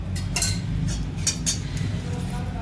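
A metal spoon clinks against a pan while two spoonfuls of oil go in for Kolhapur-style matki misal, giving four or five sharp, bright taps over a low kitchen hum, moderately close.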